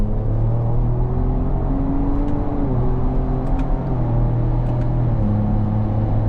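A 2025 Ford Ranger Raptor accelerates hard with quick paddle-shifted gear changes. The steady engine drone steps in pitch several times as gears swap, heard from inside the cabin with no talking.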